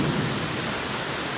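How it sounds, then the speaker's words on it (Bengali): Thunder rumbling during a heavy monsoon rainstorm, a deep low roll blended with the dense hiss of pouring rain, brief and continuous. "প্রচণ্ড মেঘ ডাকছে,"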